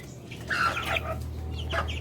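A sick chicken with a cold makes a rattling, wheezy throat sound, a couple of short, rough clucking bursts close by over a low steady background hum.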